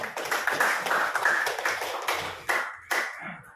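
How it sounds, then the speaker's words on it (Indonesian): Classroom applause for a student group, a burst of scattered hand claps from pupils that thins out, then two last sharp clap clusters near the end. "berikan tepuk tangan kepada kelompok 2"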